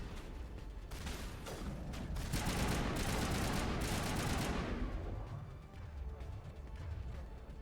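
Rapid, dense gunfire from the Mass Effect video game rattles loudly through the middle of the stretch, swelling into a sustained volley with crashing impacts before easing back into quieter ambient game sound.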